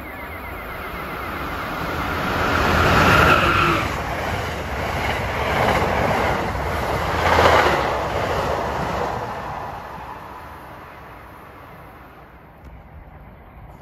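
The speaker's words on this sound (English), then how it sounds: "here comes train 97, the Silver Meteor en route from New York to Miami" Amtrak train 97, the Silver Meteor bound from New York to Miami, rumbles past in Hamilton, New Jersey. The roar swells twice, then fades gradually into the distance.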